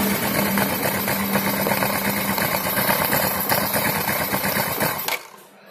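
A Yamaha Vega R motorcycle engine, fitted with a new aftermarket piston, runs loudly and close with a steady rattling idle, then cuts off abruptly near the end.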